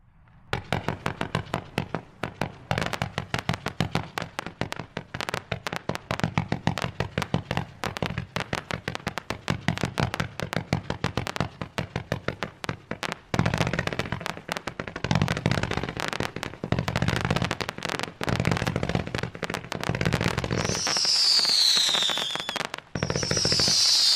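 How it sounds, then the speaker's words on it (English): A 220-shot zipper cake firework fires a long, rapid unbroken string of sharp cracking bursts, with several higher whistling effects near the end, loud and close with no talking. "This is a zipper cake, 220 shots."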